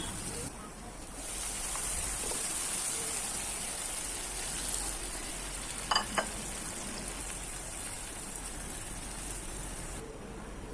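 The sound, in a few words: curry stirred and sizzling in a pan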